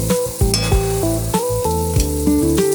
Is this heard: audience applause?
no